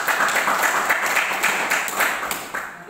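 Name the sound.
applause for the student who asked a question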